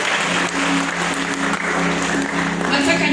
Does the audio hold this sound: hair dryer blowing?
no